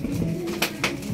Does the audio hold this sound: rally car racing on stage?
no